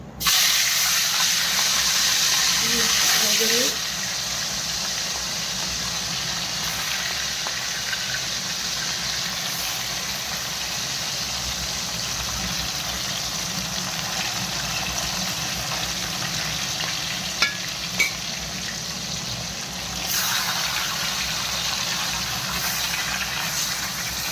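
Fried fish pieces tipped into a hot pan for a home-style eggplant fish curry, giving a steady, loud hiss that starts with a stronger burst and then settles into continuous sizzling with no talking.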